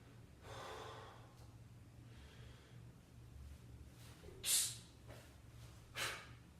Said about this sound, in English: my breathing on that inhalation happens as the bell starts to fall